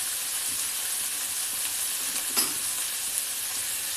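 Chopped onion sautéing with salt in a pan, a steady soft hiss of frying with one brief scrape of a stir, close by.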